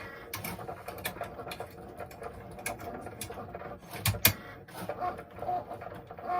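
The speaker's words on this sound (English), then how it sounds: "And we go on the machine, and this one's going to have black thread." Embroidery machine stitching with black thread, a quiet rapid patter of needle strikes punctuated by clicks and mechanical ticks, close and steady.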